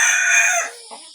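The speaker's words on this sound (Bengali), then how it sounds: "এই দেখেন দেশি মোরগ আমার ভাই, এই দেশি মোরগটা খুব ডিস্টার্ব করে মাঝে মাঝে।" A native country rooster crows once, loud and close, a bright drawn-out call that trails off with a short clucking tail, kept among pet birds at home.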